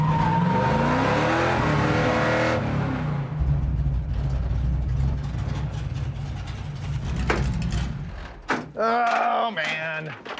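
Wreck Runner race car on its first test drive with dragging brakes, a loud rough engine idling and revving with mechanical clatter, then sharp knocks and a brief rise near the end.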